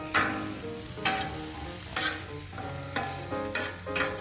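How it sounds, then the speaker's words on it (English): Shrimp fried rice sizzles steadily on a Camp Chef FTG600 flat top griddle, close and constant, with rhythmic scraping stirs of a spatula about once a second. "we're going to let this sizzle away for just a second."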